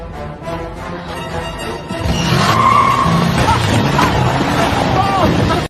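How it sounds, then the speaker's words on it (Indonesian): A car in a horror film accelerates hard with skidding tires, a loud sustained roar and screech that swells suddenly and holds steady before cutting off abruptly. "Paxton langsung menginjak gas mobilnya"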